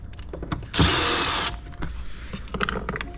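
A power driver spins out T25 screws on a 2013 Porsche Boxster (981) interior, one short loud whirring burst followed by quieter clicks and handling noises of the screws and trim.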